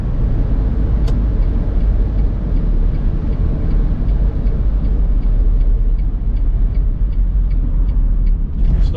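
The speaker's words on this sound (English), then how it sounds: "Still got that noise coming from the brakes" A Smart car's steady road rumble and engine drone at about 2,500 rpm near 70 mph, with a faint, regular ticking from the brakes repeating throughout.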